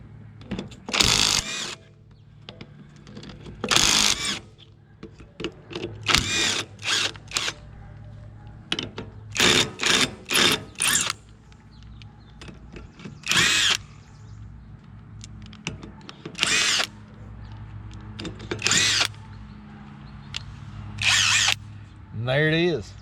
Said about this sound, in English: we're just going to see if it will actually indeed take these rusty lug nuts off